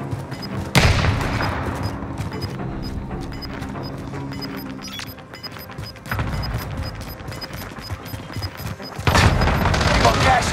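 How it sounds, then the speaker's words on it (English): An anti-tank mine goes off in Call of Duty: Modern Warfare, with sharp, loud blasts and crashing booms amid rapid gunfire in a busy multiplayer match, where voices are heard. "AT mine has been activated!"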